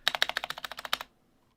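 Quick run of about a dozen keystrokes on a mechanical gaming keyboard with Cherry MX Brown switches, crisp and close, ending abruptly in silence.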